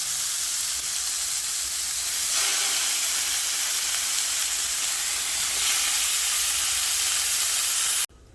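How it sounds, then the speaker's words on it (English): Lamb chops sizzling in a hot pan for Easter dinner, a loud, continuous hiss of frying fat that holds steady throughout before cutting off abruptly at the end. "you want to hear a sizzle when you drop in your lamb chop"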